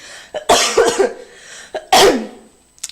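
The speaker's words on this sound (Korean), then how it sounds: "지금 기침이 계속 안 나와서 중간에 기침 소리가 좀 크게 들리실 수 있는 점 양해를" One person coughing several times in short bursts, loud and close, with quiet gaps between.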